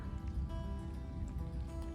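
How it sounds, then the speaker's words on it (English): Rain falls onto a partly frozen pond in a park in Kingston, Washington, giving a soft, steady patter of faint droplets without any talking. "Sections of it are frozen and sections of it have little droplets of rain on the surface."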